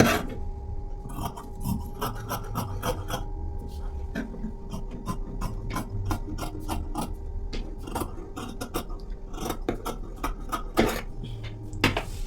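Scissors cutting blouse fabric for a coat-collar blouse, with a busy run of close snips, rasps and scraping against a hard surface, some in quick bursts, over about twelve seconds.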